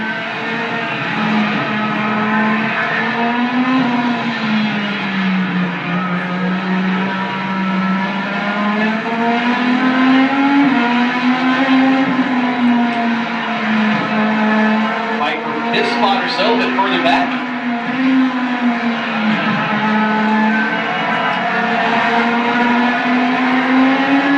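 Race cars running on a track under a yellow-flag spin in turn two, a steady loud engine drone with rising and falling pitch as cars pass, continuous beneath announcer commentary.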